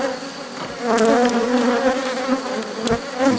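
Dense, steady buzzing of many honey bees swarming close over an open hive frame during a rescue of a drone-laying colony, loud and continuous throughout with no talk.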